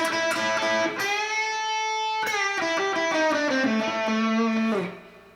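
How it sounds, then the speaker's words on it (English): Distorted electric guitar through a Boss Harmonizer plays a classic blues lick with the blues note, a few picked notes and sliding bends that ring out and fade at the end, solo and close with no voices. "If you like the classic blues lick of"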